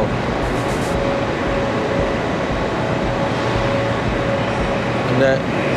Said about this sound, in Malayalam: ട്രെയിനുകളിങ്ങനെ ചേറി പായുന്നു പല ഭാഗത്തു കൂടി